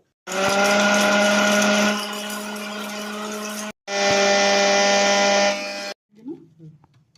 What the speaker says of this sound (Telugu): ఇప్పుడు ఇది మిక్సీ పట్టుకున్నాం కదా ఎండుమిరపకాయలు